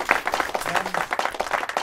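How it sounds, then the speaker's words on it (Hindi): Audience applause at a Hindi poetry recitation event held in remembrance of Dadi Janki, with dense, steady clapping from a crowd throughout the short stretch. "तालियां"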